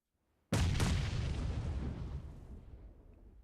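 A grenade detonates in a PUBG Mobile esports match: one sudden, loud, close blast with a sharp second crack just after, then a long rumbling decay that fades over about three seconds.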